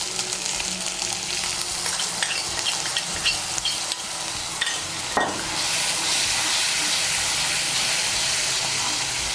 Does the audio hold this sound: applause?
no